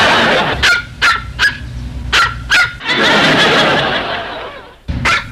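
Dog barking from a television in a comedy sitcom scene, several sharp barks in a quick irregular series, then a longer stretch of muffled noise and one final bark, fairly close.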